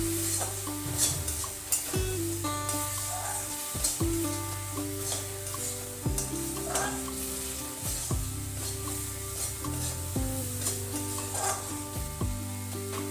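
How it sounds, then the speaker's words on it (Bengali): Spice masala for a tangra fish curry is sautéed with a little water, a close, continuous sizzle broken by repeated scrapes and clinks of a spoon against the pan, with no talking. "অল্প একটু জল দিয়ে মশলাটাকে ভালো করে কষিয়ে নেব"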